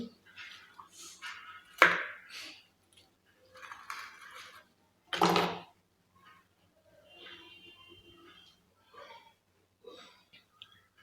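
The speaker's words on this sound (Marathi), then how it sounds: "आता मी हे सँडविच मधून कट करून दाखवते" A knife cuts through a crispy, toasted cheese sandwich in a kitchen, giving a few separate crunchy crackles with quiet pauses between them, close and fairly soft.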